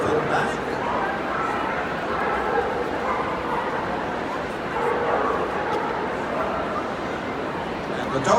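Border collies and other dogs bark and yip during a Crufts display in a large, noisy hall, with a commentator talking over the steady crowd murmur.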